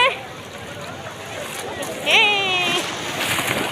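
A big sea wave at Cox's Bazar beach rushes and splashes up close, a broad wash of surf that swells partway through while excited voices exclaim over it.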